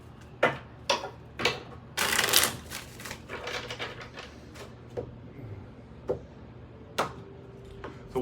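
Tarot cards are shuffled in quick bursts of soft flicks and riffles, close by and fairly quiet, with a few separate taps and pauses between.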